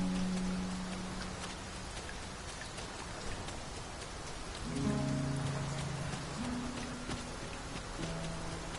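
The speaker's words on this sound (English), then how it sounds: "It is raining cats and drakes." Steady rain patters across a surface in the video game Dragon's Dogma, a broad hiss of drops with low tonal hums drifting underneath and no voices.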